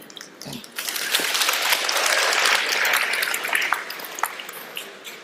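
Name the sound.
audience applause at a lecture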